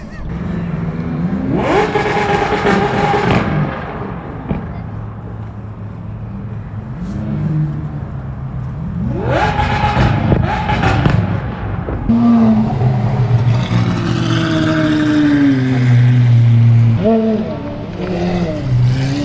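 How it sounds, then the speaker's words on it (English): A Lamborghini engine revs at a Japanese car meet in several loud, rising bursts that climb and fall, with other engine noise between them and people talking nearby. "Someone's just revving his Lamborghini, like coming in here"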